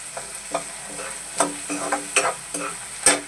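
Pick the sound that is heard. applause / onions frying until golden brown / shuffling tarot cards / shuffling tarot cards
onions frying until golden brown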